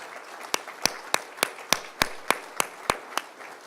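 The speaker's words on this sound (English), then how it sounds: "This room should cheer for them, yes." Audience at an Arkansas Electric Co-op Corp. event clapping in a sparse, evenly spaced rhythm of about ten sharp, distinct claps, close and clear with no voices.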